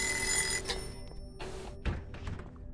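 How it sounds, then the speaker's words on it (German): An alarm clock rings insistently in the horror game Obscuritas, a bright metallic jangle that starts loud, then repeats in shorter bursts with a few dull thumps in between. "Mach doch mal diesen scheiß Wecker aus, Mann. Warum klingelt der denn ständig?"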